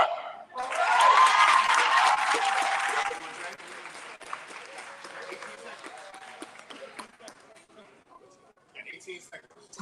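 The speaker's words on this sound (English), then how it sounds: "But clap it up for her." Audience applause at a commencement ceremony: a loud, dense burst of clapping that swells quickly, then thins to scattered claps under a speaking voice and crowd noise.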